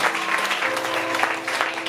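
A church congregation applauding for Jesus Christ during a sermon, a dense wash of handclaps filling the room, sustained and fairly loud with a faint voice underneath.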